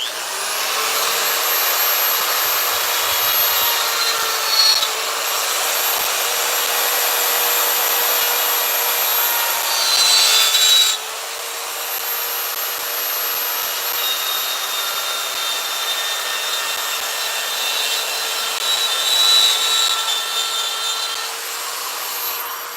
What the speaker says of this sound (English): Do the die grinder.